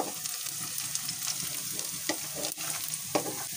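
Onions frying with garam masala in a pan for Punjabi village-style daal, a steady close sizzle with occasional stirring scrapes and no voices.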